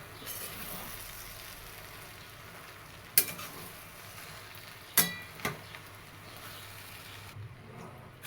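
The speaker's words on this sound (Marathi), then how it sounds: "हे बघा आता चांगलं आपलं मस्त परतून झालं आहे" Puffed rice with coarsely crushed peanuts roasts in a pan, a steady close sizzling hiss broken by a few sharp scrapes and clinks of a spoon stirring against the metal.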